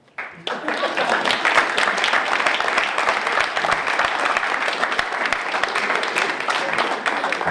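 Sustained applause from a large audience at a Kwanzaa celebration, steady and loud throughout after a brief quiet start.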